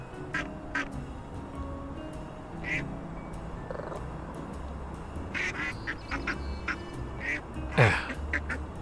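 Ducks quack in the Little Kitty, Big City video game, a few scattered calls over steady ambient game background, with one louder quack near the end.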